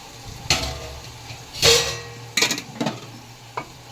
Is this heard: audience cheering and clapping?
no